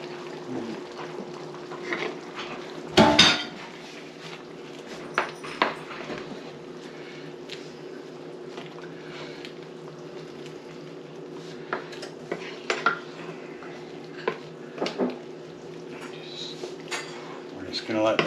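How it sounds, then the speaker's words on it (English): Corn tortillas go into a skillet of simmering enchilada sauce with chicken, with clattering pan and utensil knocks, one sharp clang, and a faint low bubbling underneath, while someone talks. "Okay, we're going to add the"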